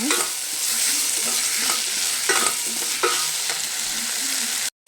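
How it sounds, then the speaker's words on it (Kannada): Salt and turmeric are stirred into tomato masala frying in a pan. A continuous close sizzle runs under repeated scraping strokes of a spoon, and the sound cuts off abruptly at the end. "ಉಪ್ಪು, ಅರಿಶಿನ ಪುಡಿ ಹಾಕಿದ್ದೀನಿ. ಈಗ ಚೆನ್ನಾಗಿ ಮಿಕ್ಸ್ ಮಾಡ್ಕೊಳ್ಳೋಣ."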